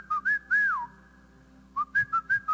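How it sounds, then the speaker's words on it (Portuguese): A man whistles alone in short, clear, tuneful notes during a church sermon, with a brief pause and then a quick run of rising and falling phrases. "comecei a assobiar"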